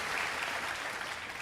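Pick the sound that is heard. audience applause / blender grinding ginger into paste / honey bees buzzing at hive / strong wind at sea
audience applause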